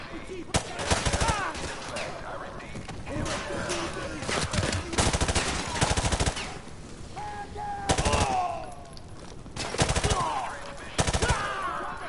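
Automatic gunfire in the Call of Duty: Modern Warfare 2 Remastered finale rattles in loud repeated bursts, with battle noise and shouting voices between the volleys.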